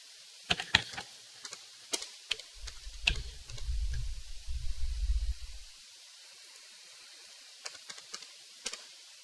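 Computer keyboard typing at close range, with sharp isolated key clicks and a short run of quicker presses, followed by a few scattered taps as a new PC name is entered in Windows 11, with no voices.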